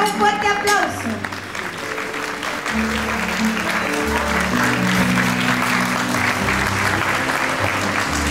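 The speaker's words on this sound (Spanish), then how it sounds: "Démosle un fuerte aplauso" Loud, steady applause rises from guests at a quinceañera celebration as children are sent off, sustained for several seconds over music.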